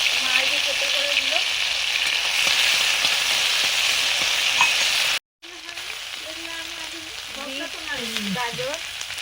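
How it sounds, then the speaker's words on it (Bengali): Crushed ginger and garlic sizzle loudly in hot mustard oil, a steady close frying hiss that cuts out briefly midway and then resumes as the pan is stirred. "সর্ষের তেল দিয়েছি, আদা রসুন থেতো করা"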